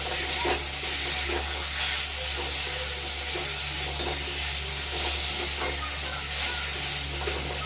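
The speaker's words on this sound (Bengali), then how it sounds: "পেঁয়াজ আমার ভাজা ভাজা হয়ে গেছে এর মধ্যে দিয়ে দেবো টমেটো" Tomato frying in a pan with onions already browned in oil after a black cumin tempering, a steady dense sizzle with faint stirring scrapes throughout, close and continuous, no talking.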